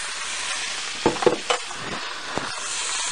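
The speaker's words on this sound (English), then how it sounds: "I want to put the butter to it." Butter sizzling beside a steak in a hot cast iron pan, a steady hiss of frying with a few sharper crackles and spatters, close and alone with no talk.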